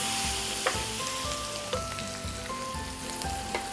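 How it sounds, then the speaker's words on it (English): Onions, minced garlic and a bay leaf frying in a pan for pasta jambalaya, a close, steady sizzle with a few soft utensil taps and scrapes throughout, no talking. "adding my onions inside my pan, followed by my minced garlic and my bay leaf"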